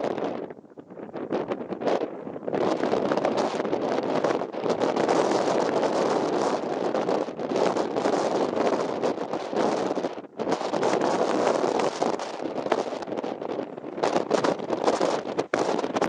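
Strong wind blows across an open hillside at Rannerdale Knotts, buffeting the microphone with loud, continuous roaring gusts and only brief lulls.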